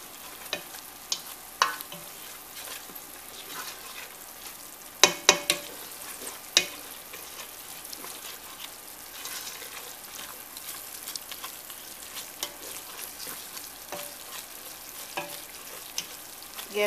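Egusi soup being stirred in a pot, a steady low bubbling with scattered spoon scrapes and taps against the sides, a few sharper knocks in the middle, fairly quiet and without voices.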